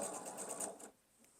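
A sewing machine stitches a quilt block seam in a steady, fast run of close needle strokes for just under a second, then stops, leaving a quiet room.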